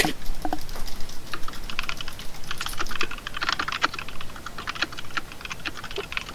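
Someone types on a computer keyboard with a quick, irregular run of close, crisp key clicks. The clicks come in bursts with short pauses between them, and no one speaks.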